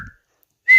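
A short, shrill whistle from a character in the Monster Hunter Stories video game. One faint note fades quickly, then a louder, steady tone begins just before the end.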